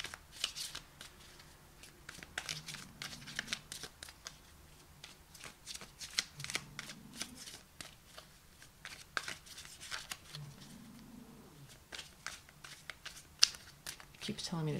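Tarot cards being shuffled by hand, repeated crisp riffling bursts close to the microphone, with brief low murmurs of a voice in between.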